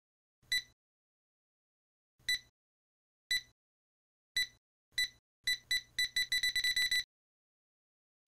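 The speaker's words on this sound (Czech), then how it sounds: "Mezitím zařízení kolem jeho krku začíná pípat." An electronic bomb device fastened around a man's neck beeps in short sharp bursts, spaced out at first and then quickening into a rapid run of beeps before stopping.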